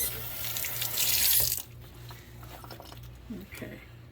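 Cold water gushes from a kitchen tap with a bright hiss for over a second, then stops. Quieter clinks and a voice follow over a low hum.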